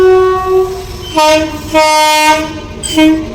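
A loud train horn blares in several long, harmonic blasts, sounding close, with brief gaps between them over a rumbling train.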